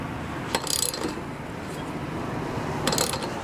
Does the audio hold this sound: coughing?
no